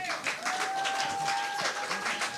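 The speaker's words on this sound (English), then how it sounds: "Let's give John another round of applause." A live audience applauds a contestant named John at an evening show, a fairly quiet, steady patter of many hands lasting the whole moment, with a faint sustained tone running underneath.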